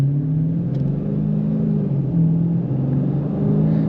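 A 2022 Dodge Challenger Scat Pack with its 6.4-liter V8 pulls away under moderate throttle, a loud, steady low engine rumble rising and shifting in pitch as it gains speed, heard from inside the car without talk.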